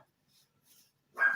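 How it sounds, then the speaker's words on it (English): A single short dog bark, fairly close, after a near-silent stretch. "Excuse my dog barking."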